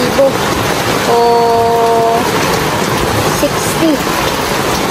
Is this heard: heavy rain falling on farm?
yes